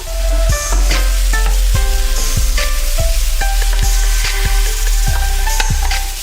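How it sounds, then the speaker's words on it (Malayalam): Pan-fried beef hits stir-fried vegetables in a hot pan for Chinese Mongolian beef, a loud, close, steady sizzle punctuated by repeated metallic scrapes and knocks from stirring. "അതിനുശേഷം നമ്മൾ പാൻ ഫ്രൈ ചെയ്ത് വെച്ചിരിക്കുന്ന ബീഫ് ആഡ് ചെയ്യാം."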